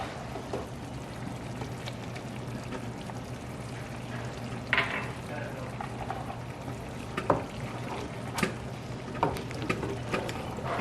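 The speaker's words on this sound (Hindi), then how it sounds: "अब इसमें हम अदरक लहसुन मिक्स कर देंगे।" Onions that have cooked down soft sizzle quietly in a pan as ginger-garlic paste is mixed in for Pakistani lamb chops, a faint steady fry under a low hum, with a few soft scrapes and clinks.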